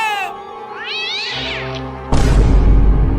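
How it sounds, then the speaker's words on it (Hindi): A big cat gives a long, loud, drawn-out meow with rising and falling pitch, close up, followed by a sudden burst of rough noise. "इतनी बड़ी बिल्ली कहाँ से आ गई?"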